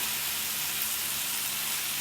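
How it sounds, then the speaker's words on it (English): Onions, garlic and red pepper sizzle steadily in a hot pan, a soft, even hiss of frying with no voices. "listen for the sizzle."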